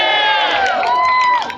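A street-show crowd cheering and whooping together, loud and close, with high shouted voices that swell and then fade out near the end.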